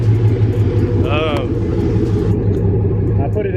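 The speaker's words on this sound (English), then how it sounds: "It's really hard for y'all to hear because the car is so loud" A Pontiac Grand Prix GXP with no catalytic converter idles with a loud, deep, steady exhaust rumble, close by, while someone talks over it throughout.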